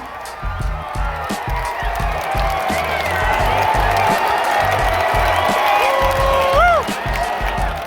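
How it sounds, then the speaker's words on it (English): A large stadium crowd at an American football home game roars and cheers in a steady, loud wash of voices, with rhythmic chanting and rising whoops throughout. "do you hear that crowd?"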